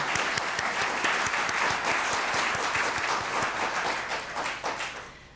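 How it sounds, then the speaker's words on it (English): An audience at a ChinaFest opening celebration applauds the CSSA leadership team with full, sustained clapping, steady and fairly loud, tapering off near the end with no talking. "let us applaud"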